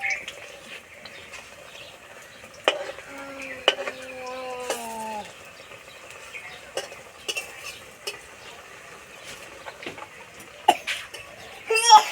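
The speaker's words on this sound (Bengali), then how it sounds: "ভাজার সময় আস্তে আস্তে জাল দেবো আর ভাজবো" Radish pakora fritters frying in oil over a low flame: a faint sizzle runs beneath scattered clinks of a utensil against the pan, with a brief rising voice-like tone partway through.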